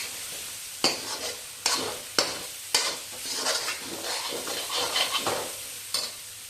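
Chicken masala being stirred and mixed in a sizzling pan, with regular scraping strokes of a spoon cutting through a continuous frying hiss, close and fairly loud.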